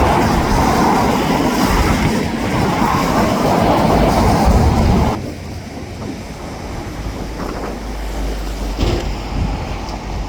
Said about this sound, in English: there's a bunch of freights being switched about here